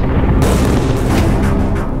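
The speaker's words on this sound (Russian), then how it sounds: "В Мантуе раздаются взрывы, но ее стены еще не пробиты." Artillery bombardment of a besieged fortress city, Mantua, with cannon and mortar shells: a dense, continuous roar of heavy booms and rumbling blasts, loud and sustained throughout with no speech.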